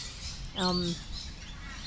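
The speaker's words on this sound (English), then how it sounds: "I'm sitting in the park here in the beautiful trees listening to the birds." Birds call in a park among trees on a winter day, one clear tonal chirp rising in the middle of the clip with faint chatter around it at moderate distance.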